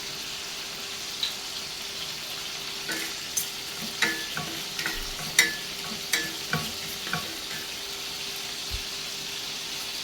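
Whole cardamom, cumin and fennel seeds fry in hot oil for a home chicken curry, a steady soft sizzle broken by a series of small clicks and taps from stirring, close and moderately quiet, no talking.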